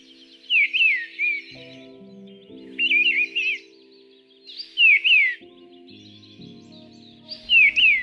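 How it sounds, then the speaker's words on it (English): A bird sings short, bright whistled phrases separated by brief pauses, clear and fairly close, over a soft low hum. "When the mistle thrush sings, he'll sing and then only pause very briefly."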